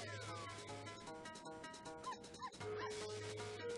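A dog whimpers and yips in the Secret Agent Barbie: Royal Jewels Mission video game, short plaintive cries layered over game music and sound effects.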